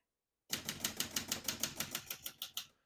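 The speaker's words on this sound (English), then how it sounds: "As you can see, all the keys type nice and none of them skip or stick." A 1968 Olivetti Lettera 32 portable typewriter types in a quick, even run of about fourteen sharp, close keystrikes, each one a crisp metallic clack. No voices are heard.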